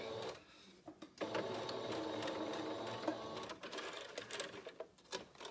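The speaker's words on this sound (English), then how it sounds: "Sew your mask. All right. Back stitch to secure." A sewing machine back-stitches the seam of a fabric face mask, giving a close, rapid mechanical whirring run with brief pauses and restarts as it reverses.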